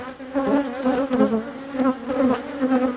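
A honeybee colony hums at the hive, a dense, continuous buzz of many wings with wavering pitch and close, steady loudness, rising and falling slightly as individual bees pass near.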